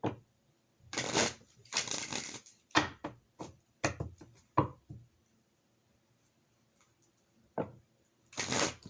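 A deck of tarot cards riffled and shuffled in several quick bursts, close up, with brief pauses between, then one more shuffle after a quiet gap.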